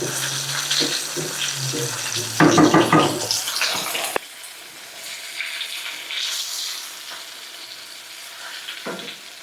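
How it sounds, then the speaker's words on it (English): Water boiling in a pot on the stove for macaroni, a bubbling, sizzling wash that starts loud with clattering and stirring, then settles into a quieter, steady simmer. "The water for the macaroni is boiling."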